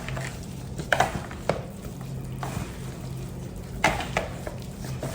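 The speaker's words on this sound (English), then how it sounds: "So I'm just gonna go ahead and mix this up" Ingredients being mixed in a bowl in a home kitchen while oil heats on the stove, with a few sharp clinks of utensil against dish over low steady background noise.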